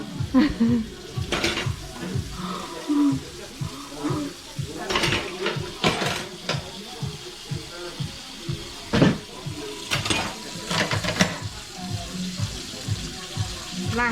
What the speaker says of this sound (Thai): กินแล้วก็ล้างจาน